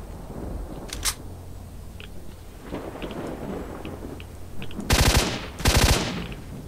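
Gunfire in S.T.A.L.K.E.R. Shadow of Chernobyl, with scattered distant shots and faint clicks at first, then two loud, close bursts of rapid automatic fire near the end.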